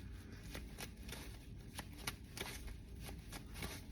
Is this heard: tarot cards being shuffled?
yes